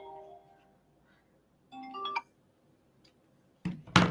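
A mobile phone ringtone plays in a classroom setting, with short tonal melodic bursts separated by silence, followed by louder clattering noise at the end.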